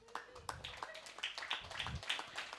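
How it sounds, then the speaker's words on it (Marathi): Two hands clapping loudly in an uneven series of sharp claps at a religious healing gathering, with voices murmuring underneath. "आता दोन्ही हातांनी जोर जोरात टाळ्या वाजव येशूसाठी."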